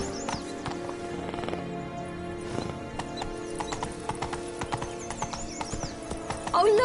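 Roach, Geralt's horse in the video game The Witcher 3, gallops with rhythmic clip-clop hoofbeats and gives a brief whinny, under music and faint game sounds.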